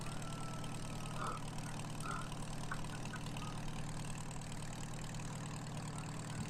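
A tractor engine idles steadily and quietly at a distance, a low continuous rumble with no talk over it, recorded outdoors during haymaking with an Oliver tractor and rake.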